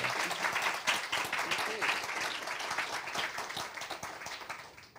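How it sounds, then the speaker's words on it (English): An audience claps steadily through a warm round of applause after a panel event, fairly distant and evenly sustained, tapering off at the end. "A warm round of applause would be lovely."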